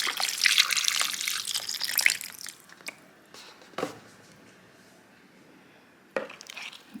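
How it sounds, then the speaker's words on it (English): Broth is poured into a crock pot, a bright liquid splashing stream for about two seconds, followed by a few drips, soft clinks and a brief later splash, close and fairly quiet. "And then we're going in with more broth."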